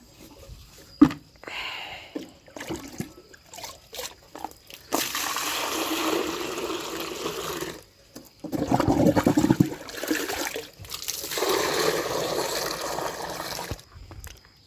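Water poured and splashed from a bucket, several sloshing bursts separated by pauses and small knocks, close and moderately loud, with no talk.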